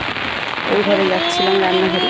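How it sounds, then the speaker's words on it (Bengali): Heavy rain falls outside a home as a steady, dense hiss under the whole stretch, while someone talks over it close by. "আর বাইরে এত বৃষ্টি হচ্ছে"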